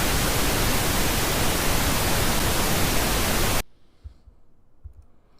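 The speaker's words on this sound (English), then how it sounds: "This is an example of pink noise." A pink noise test signal plays as a loud, even hiss for about three and a half seconds, then cuts off abruptly to near silence with a couple of faint low thumps.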